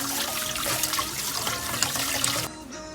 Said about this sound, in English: Make sure to rinse the noodles in cold water.